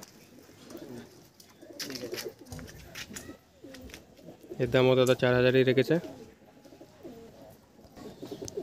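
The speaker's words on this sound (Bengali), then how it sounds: "এখানে পুরো ফ্রেশ পায়রা আছে" Pigeons coo in a loft of high-quality desi birds, a short burst of throaty cooing near the mic rising over someone talking, with softer coos scattered through the rest.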